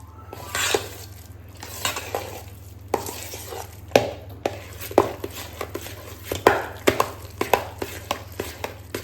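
Pure cream (malai) is stirred in a pot to make ghee, with repeated close spoon scrapes and knocks against the vessel in an irregular rhythm over a low background hum.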